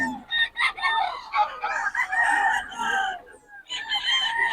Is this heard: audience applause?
no